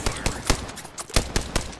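Rapid bursts of gunfire from an Apex Legends match crack out in a quick irregular series of about eight sharp shots, loud and close, with no talking over them.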